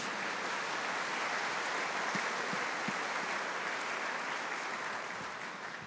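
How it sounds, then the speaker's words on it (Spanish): A church congregation gives a sustained round of applause for Jesus during a sermon. The broad, even clapping holds steady at a moderate distance for about six seconds and fades slightly at the end. "un aplauso para Jesús"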